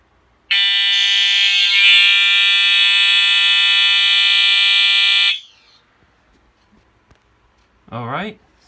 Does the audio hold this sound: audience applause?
no